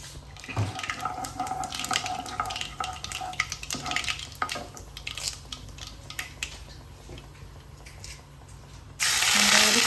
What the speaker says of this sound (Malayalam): ഒന്നൊന്നര ടീസ്പൂൺ കടുക് ഇട്ട് കൊടുക്കേ കടുകൊന്ന് പൊട്ടട്ടെ